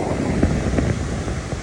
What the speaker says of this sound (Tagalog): Briskong hangin